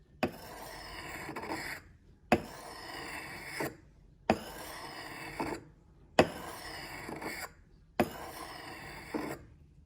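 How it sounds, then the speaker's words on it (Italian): Knife blade drawn heel to tip across a sharpening stone in five even rasping strokes, each a rough scrape ending in a brief pause, close and quiet with no voices. "far scorrere la lama da destra a sinistra, cioè dal tallone della lama verso la punta e verso l'alto"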